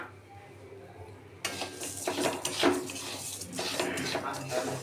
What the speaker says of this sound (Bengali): চিনিটাকে আমি ক্যারামেল করে নিচ্ছি।